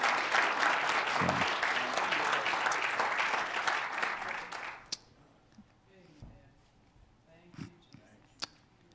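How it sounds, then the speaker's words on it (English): A church congregation applauds during a Sunday morning service, with loud, dense clapping for about five seconds before it tapers off into quiet room sounds and a few scattered claps and thumps. "Give the parents a big round of applause."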